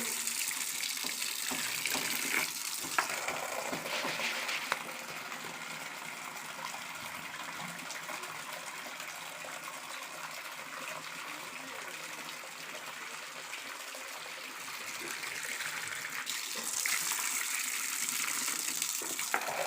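Water pours and splashes continuously as freshly caught puti fish are rinsed, a steady close gush like a running tap, with no talk.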